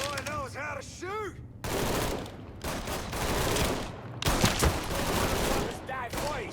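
Heavy bursts of automatic gunfire in Mafia III come in loud, close volleys separated by short pauses, with fragments of speech and whistling ricochets in between.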